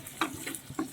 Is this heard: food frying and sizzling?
yes